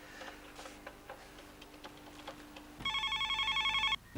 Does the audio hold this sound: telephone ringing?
yes